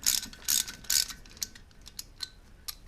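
A 4mm Allen key loosening small clamping screws on a gripper shaft of a Ryobi 3302M/3302H/3304H press, giving a few close metallic ratcheting clicks and scrapes followed by lighter, fainter ticks.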